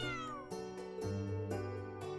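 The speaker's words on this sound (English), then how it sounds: "Oh look, what an adorable black cat." Black cat in the video game Trails of Cold Steel IV, meowing in a calm loop of about four evenly spaced meows over steady tonal background music, with no voices.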